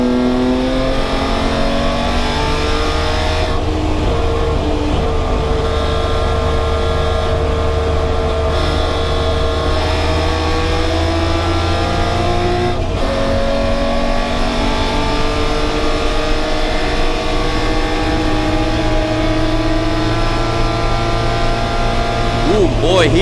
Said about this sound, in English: he is bringing the revs up to the moon